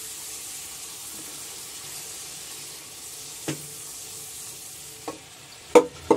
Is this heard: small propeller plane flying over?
no